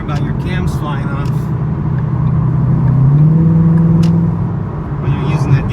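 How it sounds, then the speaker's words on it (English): A 2014 Mustang GT with a tuned Coyote 5.0 V8, aftermarket cams and intake, and an X-pipe exhaust accelerates hard, a loud, steady, rising engine roar heard from inside the car, with brief voices over it. "There was some spirited acceleration for you guys"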